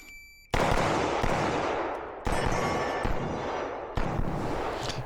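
Staccato XC pistol fired outdoors with iron sights: three loud, sharp shots spaced over about five seconds, each with a long decaying echo tail.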